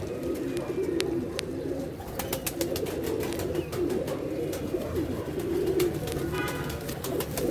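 Pigeons coo continuously in low, throaty, overlapping murmurs close by, with scattered light clicks and rustles over them.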